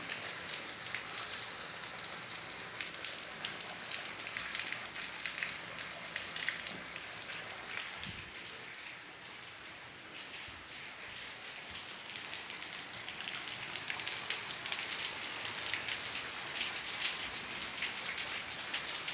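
Rain falls steadily, a continuous close hiss of drops on surfaces that eases slightly midway before building again, with no one speaking.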